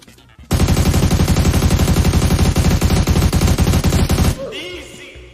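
Sustained automatic rifle fire in the mobile shooter PUBG Mobile, a loud rapid burst of close shots lasting about four seconds before cutting off, with faint game sounds afterward.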